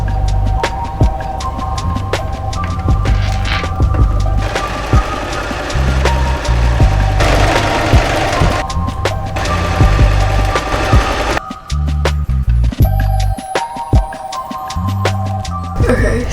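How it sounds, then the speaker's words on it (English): A sewing machine zigzag-stitches fabric for a homecoming dress, running loud and close in a throbbing, rhythmic hum with short stops and restarts and no talk. "I'm gonna do a zigzag right next to the straight stitch."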